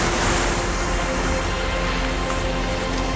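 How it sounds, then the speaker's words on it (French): Big sea waves wash against the Mykonos shore, a loud, continuous roar of surf with broadband rushing water and no voices. "Il y a des grosses vagues."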